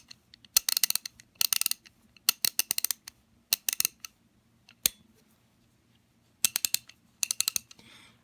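Rebuilt MAC Tools XR11PA ratchet clicking in short bursts of sharp, close ratcheting clicks separated by brief pauses, with a faint low hum underneath.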